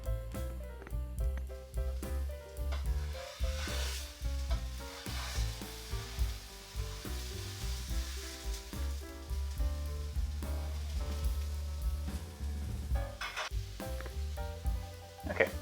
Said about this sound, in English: I will be sauteing up some onions to go onto the sandwich